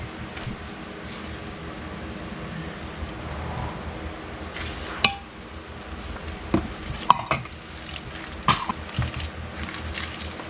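Meatloaf mixture with milk poured in is stirred and mixed in a pan, giving soft, wet squelching and scraping sounds with a few sharper knocks, close by and with no talking.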